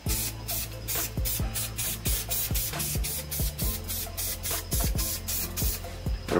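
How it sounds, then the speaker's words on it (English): Spray paint hisses onto an engraved 11x14 canvas in a steady, close wash, broken by a quick run of short rhythmic pulses and soft knocks. "We done spritzed it down."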